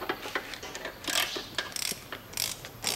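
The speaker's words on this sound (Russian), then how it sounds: "Вот я ее под углом завел на шпильку и кручу ее." A flexible shaft tool with an E7 socket turns an M8 stud on the 3GR-FSE engine of a 2006 Lexus GS300, giving quick close ratcheting clicks and metallic scrapes in irregular bursts, quiet and with no voices.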